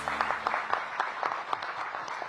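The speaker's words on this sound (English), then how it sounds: "please give Kenyon a big round of applause" Applause from the audience at a live media briefing held by the DC mayor, a steady round of many hands clapping throughout, fairly even and moderately close.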